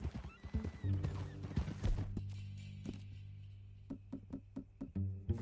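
A horse in the video game Red Dead whinnies loudly and at length, followed by a series of hoof clip-clops at a walking pace and a short snort at the end.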